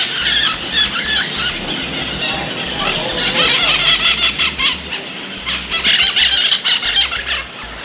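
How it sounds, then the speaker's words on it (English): A flock of crimson-fronted parakeets gives loud, shrill, overlapping squeals and screeches without pause, close by and dense, with faint low background rumble. "these crimson-fronted parakeets here, they are calling to each other in order to coordinate their social movements"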